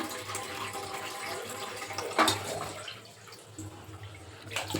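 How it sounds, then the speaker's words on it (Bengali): Tap water runs into a basin being filled for washing rice at night, a steady flow from a thin stream with a brief louder splash midway; no talk. "রাত্রে চাল টাল ধোয়ার জন্য এই যে গামলার মধ্যে জল ভরে রাখলাম কিছুটা"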